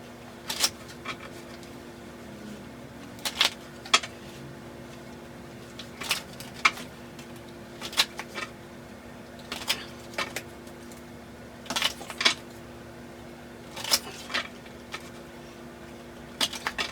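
Tarot cards are shuffled in a quiet room, producing nine or so brief riffling bursts at irregular intervals over a faint steady hum, with no talking.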